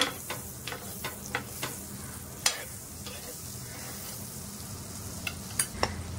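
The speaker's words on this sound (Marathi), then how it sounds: "त्यात मी बटर लावून घेते तव्याला।" Butter sizzling on a hot tawa, heated for thecha pav: a quiet, steady frying hiss broken by sharp ticks and taps of a spatula against the pan.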